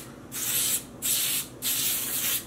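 Dye sprayed onto both sides of a vinegar-soaked knitted sock blank, heard as three loud hissing bursts, each lasting under a second, separated by short pauses.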